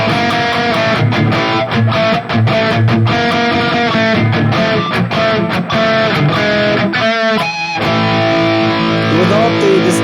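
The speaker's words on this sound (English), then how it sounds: "5150 boosted with the what is it? Green OD." An electric guitar plays through a Valeton GP-200 modeler on a 5150 amp model boosted by a Green OD, giving a loud, continuous distorted riff with sustained chords, a brief bend and some choppy palm-muted hits.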